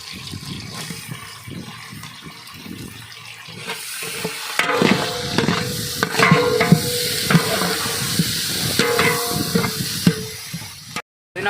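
Tomatoes tipped into a pan of frying onions and green chillies for a village-style chicken biryani, with a steady sizzle that swells midway into busy clattering stirring and scraping, fairly close, before cutting off abruptly.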